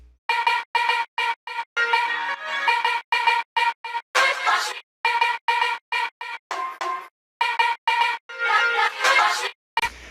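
Short chopped slices of a sample, triggered from a MIDI keyboard through Ableton's Simpler sampler, play back in a choppy rhythmic sequence of abrupt on-off fragments with hard cuts between them, loud and upfront.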